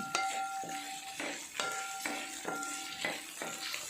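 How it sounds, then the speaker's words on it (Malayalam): Halved dried red chillies are stirred in a frying pan for puli inji, a spoon scraping and knocking against the pan in a steady rhythm of about a stroke every half second over a soft, continuous sizzle. "വറ്റൽമുളകാണ് കേട്ടോ അതിട്ട് കൊടുക്കുന്നുണ്ട് അത് നന്നായിട്ട് ഇളകി യോജിപ്പിച്ച് കൊടുക്കണം"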